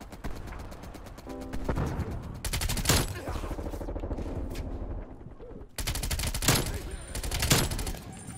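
Groza rifle gunfire in the video game Black Ops Cold War, loud close rapid bursts with a pause and other game sounds between them, then more sustained automatic fire.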